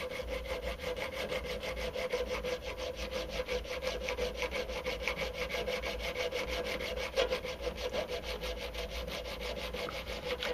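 A hand file rasps back and forth on metal to fit a 75mm throttle body on a Dodge, Jeep or Chrysler 4.7 engine, a close, steady run of quick scraping strokes that continues without talk.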